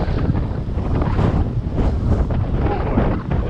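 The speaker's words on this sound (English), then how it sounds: "Oh boy, this is some wind." Strong wind buffets a microphone outdoors on a city street, a loud continuous roar with gusty surges throughout and no clear speech.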